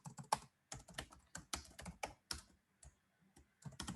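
Quick bursts of computer keyboard typing while HTML code is entered, with clusters of crisp key clicks separated by short pauses, close and quiet.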